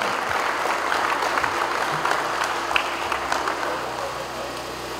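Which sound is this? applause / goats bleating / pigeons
applause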